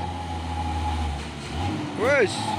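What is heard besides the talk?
Hino truck engine climbing a hill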